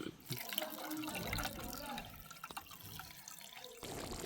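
Coconut milk pours and trickles through a strainer with wet splashing and dribbling, close up, alongside faint kitchen clatter.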